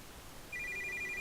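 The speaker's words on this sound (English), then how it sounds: "My phone vibrates, and I go to look at it." A phone in a video game buzzes with a short electronic pulsing alert, a rapid string of evenly spaced beats lasting under a second against a quiet background.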